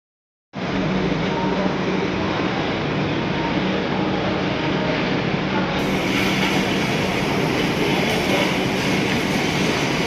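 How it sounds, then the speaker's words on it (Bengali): An AC 3 economy class train on a journey from Mumbai pulls into Nagpur with a loud, steady rolling roar that starts abruptly and holds unbroken, with faint rail hiss above it. "তো নাগপুর পৌঁছে গেছে আমাদের ট্রেন"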